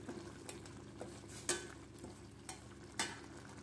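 Low, steady sizzling of Chettinad chicken masala gravy frying in a pan with soft stirring scrapes and a few sharper clinks of a utensil against metal, fairly quiet throughout.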